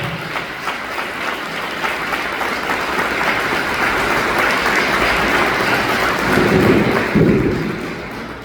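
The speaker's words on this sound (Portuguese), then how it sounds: "Vamos aplaudir a Jesus de forte." Church congregation at a New Year's Day service applauding, a dense, sustained roar of many hands filling the room, steady and loud throughout with no clear speech.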